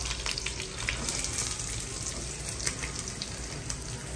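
Onion, added after garlic, frying in hot oil in a pan while making misal pav: a steady, close hiss and crackle of sizzling that runs continuously without any speech.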